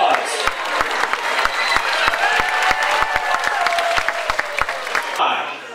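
Loud, dense applause from a large crowd, with sharp individual claps standing out, sustained throughout before cutting off near the end.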